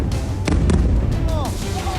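Iranian missiles exploding over Israel at night, heard as sharp booming blasts in quick succession amid a constant roar, with voices mixed in.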